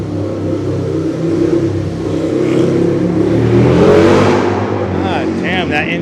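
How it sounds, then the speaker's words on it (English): A loud car engine rumbles and revs nearby on a Manhattan street, rising in pitch and intensity before easing off, with a brief high squeal near the end. "that engine is so loud"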